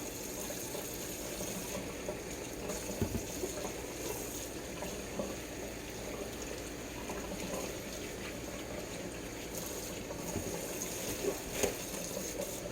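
Cold water runs steadily from a tap while raw chicken thighs are rinsed, a continuous close splashing gush with occasional small knocks and shifts in the flow.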